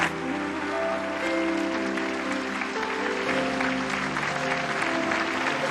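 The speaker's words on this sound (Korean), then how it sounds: "한번 큰 박수로 축복해 주시기를" A church congregation claps in steady, even applause that fills the whole stretch, with a sustained musical tone running underneath.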